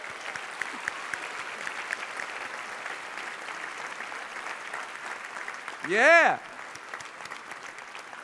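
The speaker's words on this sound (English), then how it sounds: "Give yourselves a round of applause." A class audience claps steadily in a room, moderate dense applause throughout, with a brief whoop or whistle-like voice rising over it near the end and a short spoken word.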